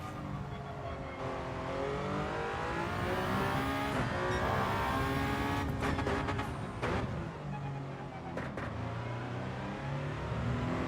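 A Toyota race car engine in Gran Turismo 7 revs loudly and steadily throughout, with gear changes and brief tire squeals breaking the continuous roar.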